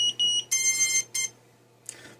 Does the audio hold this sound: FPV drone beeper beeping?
yes